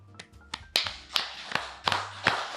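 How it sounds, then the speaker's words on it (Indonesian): Scattered hand claps from a small audience, a handful of sharp separate claps spaced irregularly over a quiet room. "tepuk tangannya jangan ragu-ragu loh"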